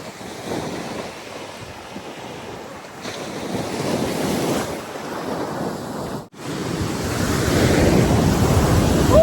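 Ocean waves break on a Hawaii shore, with rolling surges that build and fall in loudness amid gusty wind buffeting the microphone, the final wave swelling loudest and closest.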